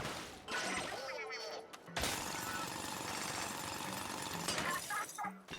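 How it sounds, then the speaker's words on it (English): Drill bot boring into a crystal in the video game Splatoon Raiders: a loud, continuous grinding and crunching drill noise with crackling, shattering bursts, steady for several seconds over game music. "Stand next to the crystal and press X to call the bot to drill."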